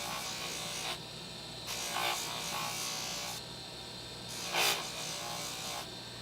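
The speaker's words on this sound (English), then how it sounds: "I'm going to just do a little polishing" Hand polishing of a convex oval piece with compound, giving a soft, faint rubbing and rasping that comes in several short strokes over a quiet background hum.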